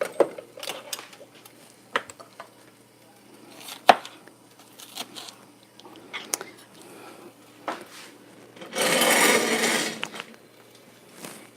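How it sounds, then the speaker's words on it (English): A knife chops vegetables into chunks on a cutting board with irregular sharp taps, close and moderately loud, plus a longer rough scraping burst near the end. "back to chopping up these veggies into chunks to go in the oven and roast them"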